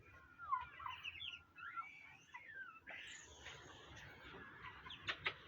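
Tiger chickens on a poultry farm cluck and squawk, some calls near and others farther off, with brief overlapping bursts and no talking.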